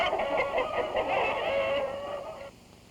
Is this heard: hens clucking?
yes